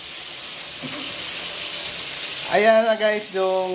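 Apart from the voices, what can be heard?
food frying in oil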